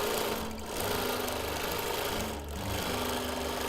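A quilting sewing machine drones close and steady over a pinned pieced backing, with a loud mechanical hum and two short dips in speed.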